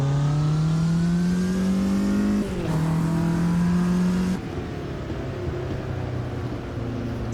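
Race car engine in Automobilista 2 pulling out of the pit lane on a wet Cadwell Park track, a loud steady drone held on the pit limiter in first gear, shifting pitch twice as it rolls away.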